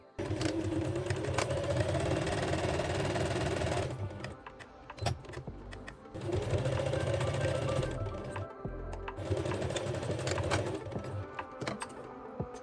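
Sewing machine stitching the pocket opening seam of wide-leg pleated pants: two long runs of fast, steady mechanical whirring, broken by quiet pauses and small clicks as the fabric is adjusted, close and clear.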